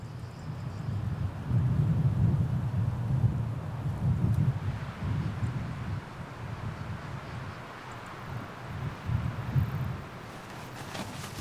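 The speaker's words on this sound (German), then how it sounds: "im Moment geht gerade der Wind" Wind gusts outdoors at a high camp spot on a bikepacking trip across the Balkans, buffeting the microphone with a low roar that rises and eases in waves.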